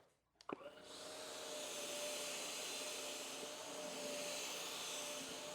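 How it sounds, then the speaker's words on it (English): Cordless vacuum cleaner sucking cheap flour off a floor: a switch click and short startup, then a steady loud whine and rushing airflow that holds for several seconds without talk. "You can see how smoothly it just goes ahead and vacuums that up"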